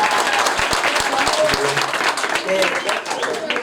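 Audience applause at a mushaira in Pune, a busy spread of clapping with a few sharp low thumps early on, mixed with crowd murmur and voices throughout.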